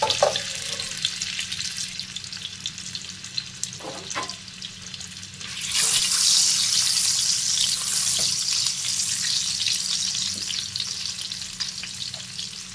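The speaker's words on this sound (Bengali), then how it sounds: "তেলটা গরম হয়ে গেছে। আমি এখানে কিছুটা পনির কেটে রেখেছিলাম, পনিরটা ভেজে তুলে নেব।" Cut paneer frying in hot oil, a continuous close sizzle that swells louder and denser partway through with occasional light clatters, no voices.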